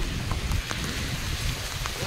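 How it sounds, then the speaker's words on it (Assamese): Heavy rain pours steadily on an outdoor road during a cycle ride from Guwahati to Meghalaya, a dense continuous hiss with scattered drop impacts and low rumble throughout. "বৰষুণ দি আছে আৰু জোৰে জোৰে বৰষুণ"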